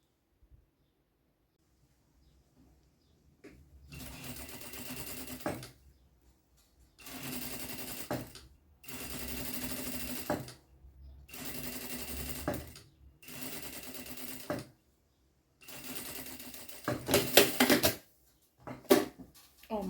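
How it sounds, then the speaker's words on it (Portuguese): A sewing machine runs a safety seam across the top of a makeup bag in bursts of rapid mechanical stitching. Six or seven short runs, each one to two seconds long, are separated by quiet gaps. "vamos passar uma costura de segurança aqui em cima"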